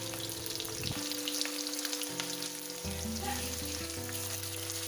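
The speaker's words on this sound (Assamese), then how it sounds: "এতিয়া মই কেৰাহীত মিঠাতেল গৰম কৰি প্ৰথমতে শুকান জলকীয়া 3টা দিম।" Dry red chillies frying in hot mustard oil in a kadai give a steady, close crackling sizzle with some stirring, while low tonal hum runs underneath.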